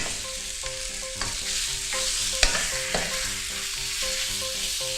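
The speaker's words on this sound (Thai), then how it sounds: "ผัดสักครู่หนึ่ง ใส่ข้าวโพดอ่อนค่ะ" Carrots and baby corn sizzle steadily in a hot pan while stir-frying for yakisoba, with a few sharp scrapes and clatters of stirring over a low, even musical background.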